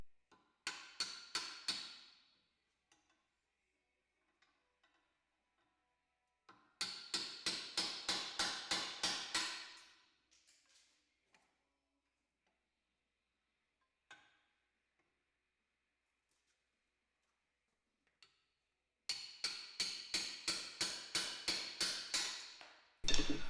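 Three bursts of rapid metallic tapping as rivets are knocked out with a pry bar on a Can-Am Maverick X3, each a quick run of sharp strikes, separated by quiet stretches with a few isolated knocks.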